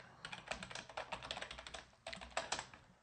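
Fast, close keystrokes on a computer keyboard in two quick bursts separated by a brief pause, crisp and fairly quiet with no speech.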